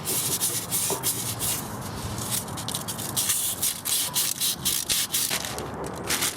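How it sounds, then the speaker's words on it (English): Emery cloth sanding a rusted front wheel hub on a 2006 VW Jetta MK5, a close, rapid back-and-forth scraping rasp in short repeated strokes, loud and unbroken, with no voices. "sand that down with some emery cloth"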